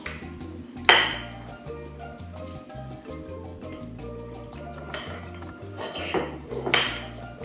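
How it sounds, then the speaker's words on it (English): Cutlery cutting into a hash brown and sausage patty on a plate, with a few sharp scrapes and clinks against the plate over a low background hum, close by, followed by fainter knife strokes. "Let's cut our hash brown and some of our minced patty"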